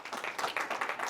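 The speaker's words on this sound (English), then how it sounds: "A round of applause for him, please." Audience applause greets a young progressive politician at a political engagement event, a dense steady patter of clapping filling the moment without speech.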